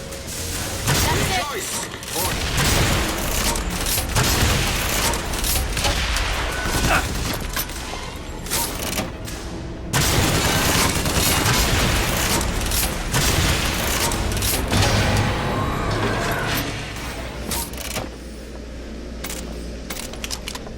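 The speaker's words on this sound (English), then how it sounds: "Just rocket everything until there's no longer anything moving." Rocket launcher blasts and the clatter of combat in the shooter BioShock Infinite, a dense and continuous barrage of booms and debris running without a break.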